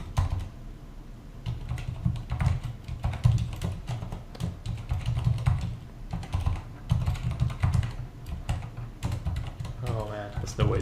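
Fast clicking of a computer keyboard as a password is typed, dense bursts of keystrokes close up, with a voice talking over part of it.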